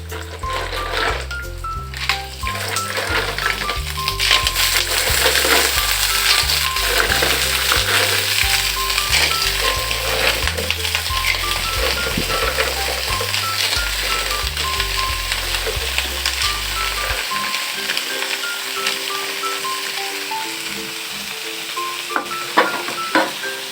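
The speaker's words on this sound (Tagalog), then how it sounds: "Ngayon, lalagay na natin yung ating binili na tahong." Fresh mussels sautéing with reddened garlic, onion and ginger produce a loud, dense crackling sizzle throughout, with a steady low hum under the first two thirds and a few stirring clicks near the end.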